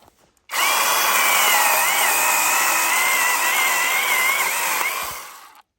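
A Flinke cordless mini chainsaw cuts through wood in one steady, loud, high-pitched whine lasting about five seconds, starting abruptly and winding down at the end, with no talk over it.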